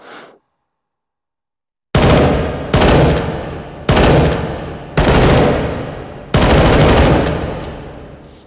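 Full-auto bursts from an L85 bullpup rifle in the VR shooter H3VR, five loud sustained bursts of rapid gunfire separated by brief pauses, each fading slightly, with no talking over them.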